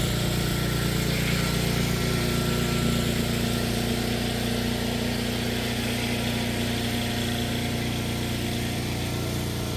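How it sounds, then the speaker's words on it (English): A steady engine drones without a break, a low idling rumble holding an even pitch throughout, like a nearby generator running. "There's the generator. We've got that running."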